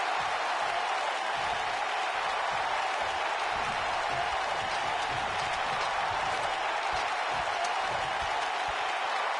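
Steady broadband crowd applause and cheering from a WWE SmackDown wrestling video game arena, a dense continuous roar filling the whole stretch at even loudness with no clear gaps.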